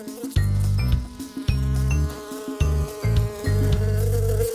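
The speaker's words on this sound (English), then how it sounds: "Oh, it's just a little buzzing bee!" Cartoon buzzing bee in a kids' craft show, a steady insect drone heard in several bursts over loud cartoon music with a strong beat.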